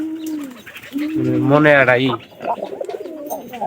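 A pigeon coos in a low, rolling burst, close and fairly loud, with people talking before and after it in a home setting.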